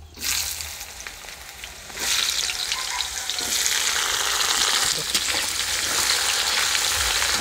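Carrots dropped into hot oil in a pan for mutton fried rice sizzle loudly, with bursts of crackling as they are added and stirred, and the frying grows more intense partway through.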